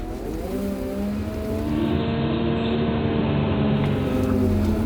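Cat 926M, 930M or 938M wheel loader engine rises and holds a steady drone as the machine drives into its dig cycle at a pile. The sound is loud and close, with no talk.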